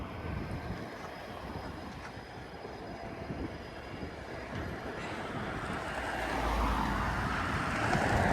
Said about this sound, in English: And I see another eastbound train.